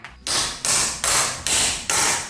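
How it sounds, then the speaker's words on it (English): A hammer strikes a car's U-joint cap five times in an even rhythm, each blow a sharp, loud metallic crack close by with a short ringing decay. "So I can hammer it."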